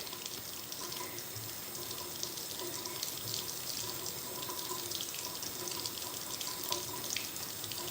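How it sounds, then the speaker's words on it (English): A kitchen tap runs steadily into a sink in an old house, making a soft, constant splashing and trickling rush with no talk. "Let that sink fill up so it's ready for us."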